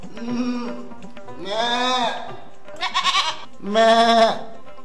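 A goat bleats four times in close succession, loud and near, each cry a wavering nasal call with short pauses between.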